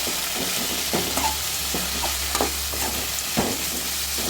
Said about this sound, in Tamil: இந்த பிரண்டை வந்து நல்லா எண்ணெயிலே சுருண்டு வரணும்